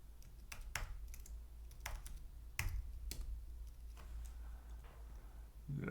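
Keys clatter on a computer keyboard at a Linux terminal, a close, irregular run of sharp clicks with brief pauses between bursts, over a low steady hum.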